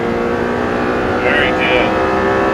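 An Audi R8 on a track held at full throttle, a loud steady engine drone with a bright harmonic whine that rises slightly, while an instructor talks over it.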